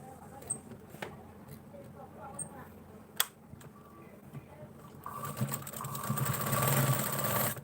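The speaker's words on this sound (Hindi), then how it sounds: "उसके बाद में पलटी करके फिर इस पर फिटिंग की सिलाई करनी है" A sewing machine stitches the side seam of a blouse, starting after a few scattered clicks and handling sounds and then running in a steady, close mechanical whir that grows louder toward the end.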